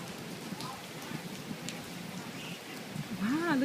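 Rain patters steadily around a mother duck and her ducklings, a soft continuous hiss with faint scattered chirps and a rising voice near the end.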